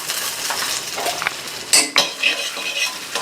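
Ginger garlic paste and onion sautéing in ghee in a pan for vegetable kurma, with a steady soft sizzle under several sharp clinks and scrapes of a spoon stirring against the pan.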